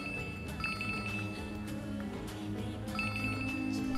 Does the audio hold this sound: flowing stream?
no